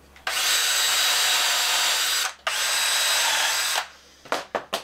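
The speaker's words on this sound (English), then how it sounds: "Your drill again?" A power drill whirs loudly in two long continuous bursts with a brief pause between, followed by a few short trigger blips, while fitting a metal kitchen backsplash over wood in a converted school bus.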